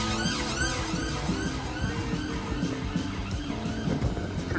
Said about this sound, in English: siren as usual.